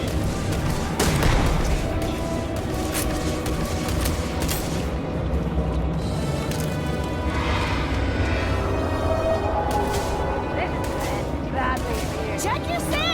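Repeated gunfire and booming explosions in the Starfield video game, a dense barrage of shots and blasts continuing throughout at a fairly steady level.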